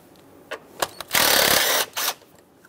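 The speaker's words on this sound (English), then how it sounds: "we have a 10 millimeter headed bolt right next to it that we have to remove" A 10 mm bolt is loosened on a Dodge Ram 2500 5.7L V8 throttle body, heard as a few sharp clicks followed by a burst of rapid ratcheting and another short ratchet run, close up with no speech.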